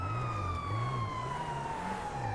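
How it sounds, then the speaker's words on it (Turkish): A police siren wails in a video game, switched on in steady, rising-and-falling cycles over a continuous engine-like drone, loud and close throughout. "Bu da sirenleri açıp açıp duruyor."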